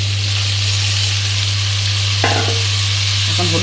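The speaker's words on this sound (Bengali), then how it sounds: "চাল ডালটা ভাজা হচ্ছে" Washed rice and moong dal fry together in a wok, a loud continuous sizzle over a steady low hum, with a couple of brief clattering stirs of a utensil toward the end.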